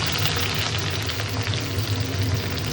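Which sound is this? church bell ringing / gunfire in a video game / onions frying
onions frying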